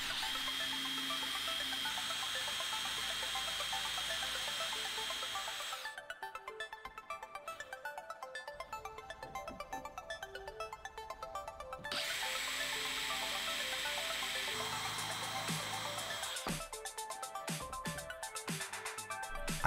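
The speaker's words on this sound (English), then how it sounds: "I start by positioning the black iron pipe flanges and drilling holes for screws." Power drill boring screw holes through black iron pipe flanges into a wooden tabletop, a steady whirring burst that stops and restarts, loud and close with no talking.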